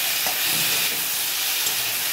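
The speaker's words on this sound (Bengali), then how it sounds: "আলুগুলো দিয়ে দিলাম, আলুগুলো ভাজা হতে থাকবে" Potatoes and onions fry in mustard oil, a dense, even hiss of sizzling that holds steady and fairly loud at close range, with a couple of soft clinks and no talking.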